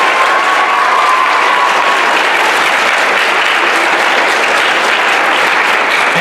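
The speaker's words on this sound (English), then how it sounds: "Please give them a round of applause." A large audience at a freshman honor choir event breaks into a loud, sustained round of applause, dense steady clapping that fills the whole stretch without pause.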